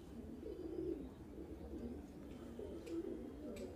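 Madrasi pigeons in a breeder's loft cooing in soft, continuous low rumbling calls that carry on through the whole stretch, with no talk.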